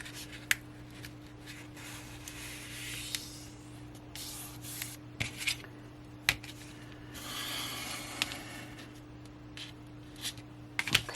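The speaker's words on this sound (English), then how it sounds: "So over here I will make a big fold." Paper being folded and creased by hand for a junk journal, soft rubbing swishes and sliding strokes with occasional taps and clicks, close and quiet over a low steady hum.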